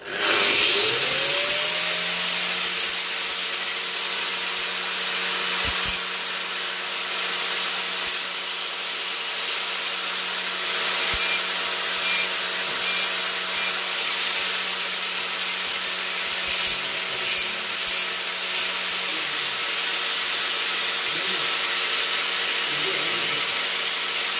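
A screwdriver tip, the flat blade of a voltage-tester screwdriver, is ground on a grinding stone. A loud, continuous whirring grind holds steady for the whole stretch, close and alone, after a brief rising whine at the start.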